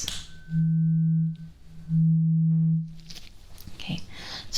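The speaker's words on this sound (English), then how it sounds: "Now we have a tuning fork, and the sound sounds like this." A tuning fork rings out twice in a mock medical hearing exam, each a steady pure tone held for about a second, followed by faint rustling.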